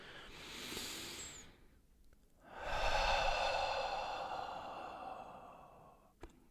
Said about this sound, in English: So just some nice deep breaths.